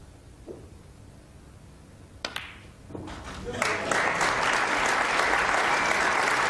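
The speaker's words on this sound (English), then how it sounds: "The capacity crowd appreciating every move he makes." A capacity crowd at a 1986 snooker match at the Crucible breaks into applause, starting with a few scattered claps and swelling into loud, sustained clapping, with a commentator's voice briefly heard before it builds.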